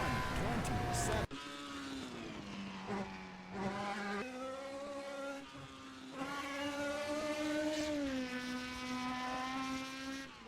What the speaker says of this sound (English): for some reason, the exterior sounds of this sound a little bit like almost a six-cylinder